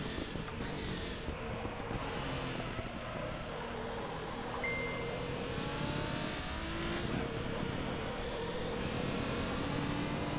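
A race car engine in a racing video game, revving and rising through gears on track, with a continuous loud whine shifting in pitch and no talking.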